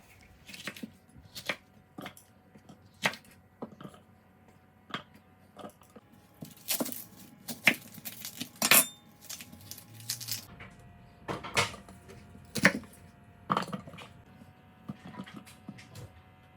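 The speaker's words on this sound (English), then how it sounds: "So the first thing I did was very roughly chop up some vegetables." A knife roughly chops vegetables on a board in a quiet kitchen, giving a series of irregular, sharp close-up cuts and taps with pauses between them.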